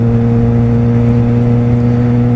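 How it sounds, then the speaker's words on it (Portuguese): A Yamaha XJ6 motorcycle rides along a winding road, its engine holding a steady, loud droning hum with a strong low tone. The sound is close and continuous, with no speech. "Vou deixar rolando mais um somzinho de fundo pra vocês curtirem, que tem umas curvinhas bacanas pra fazer de moto."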